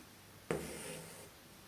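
Embroidery needle and thread pulled through fabric while working Bayeux stitch: one soft, close rasping draw lasting under a second, with a faint hissing tail in a quiet room.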